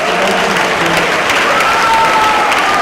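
Audience applause fills a school winter concert hall, a steady, dense wash of many hands clapping at full volume throughout, with faint tonal hum underneath and no one speaking.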